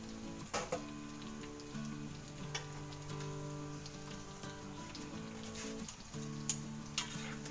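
Pieces of beef lung sizzle and crackle steadily in hot oil, with a few louder pops and spatters breaking through a low, constant background hum, with no talking.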